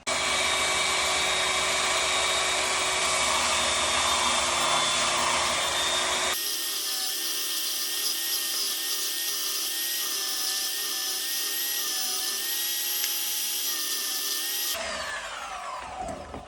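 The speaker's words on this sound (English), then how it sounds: "I'm going to cut them out, and we'll see how those little blocks fit on there." A power tool cutting small blocks out of scrap pallet wood, a loud continuous high-pitched whir that abruptly changes tone partway through, then winds down at the end, with no talking.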